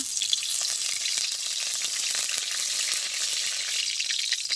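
A bay leaf crackles in hot oil in a village kitchen wok, giving a steady close sizzle with fine popping spatter throughout.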